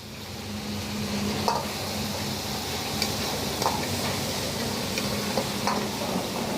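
Hot oil sizzling steadily as spices temper for dal makhani at a Punjabi dhaba in Chotila, a soft continuous crackle with a few brief clinks of a utensil against the pan.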